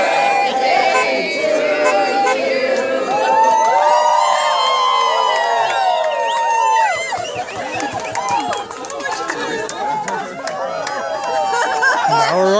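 A large crowd at a presidential motorcade event cheers, whoops and shouts as Bob Miller arrives, a loud, dense roar of many voices that continues throughout with scattered shrieks and chatter.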